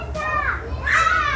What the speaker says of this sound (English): You hear the kids screaming.